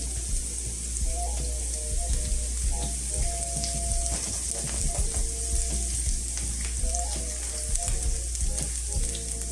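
Shallot and garlic fry in a pan for a stuffed eggplant dish, a steady close sizzle with crackling oil spatters and a few light stirring scrapes throughout, no talk.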